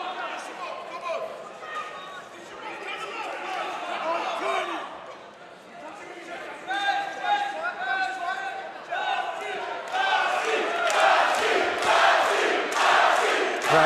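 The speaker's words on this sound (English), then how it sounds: "Crowd getting behind Basi." Boxing arena crowd cheering and roaring for fighter Basi, swelling loud and sustained behind a ringside commentator's continuous talk.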